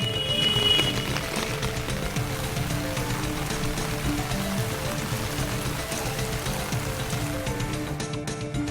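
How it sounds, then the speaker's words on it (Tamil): Heavy rain pours in Sathankulam, with rainwater rushing like a river along Main Bazaar and nearby streets, a steady dense roar of falling water and flowing runoff throughout. "சாத்தான்குளத்தில் பெய்த பலத்த மழையால் மெயின் பஜார் உள்ளிட்ட பகுதி சாலைகளில் மழைநீர் ஆறு போல பெருக்கெடுத்து ஓடியது"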